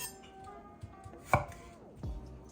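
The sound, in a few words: knife chopping red onion into small slices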